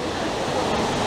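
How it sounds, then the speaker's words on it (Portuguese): Multnomah Falls in Oregon, a large waterfall, heard as a loud, steady broadband roar of falling water, continuous and close. "A segunda parte da cachoeira ali embaixo."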